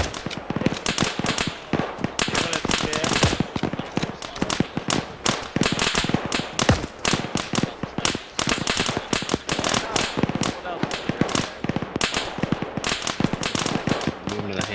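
Dense, crackling gunfire from many weapons in an urban firefight in Lythium, a Middle Eastern setting in a video game, with sharp shots and bursts rattling continuously, while a voice talks over it.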